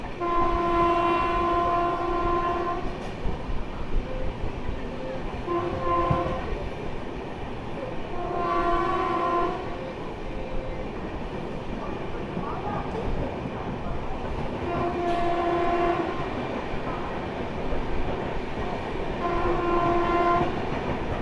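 Akal Takht Express speeding non-stop through Barddhaman Junction, with loud steady wheel-and-rail rumble under several long horn blasts that repeat at intervals.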